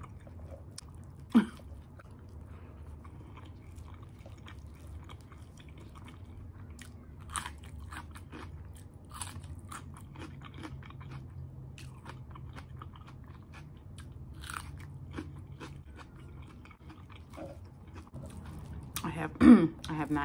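Chicken mango curry with lemon rice being chewed and eaten close up: soft, scattered bites and crunches over a quiet background, with a sharper sound near the start and near the end.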